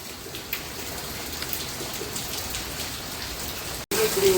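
Rain falls steadily in a village setting, a dense, even patter on surfaces with a brief dropout near the end before the shower resumes just as strongly.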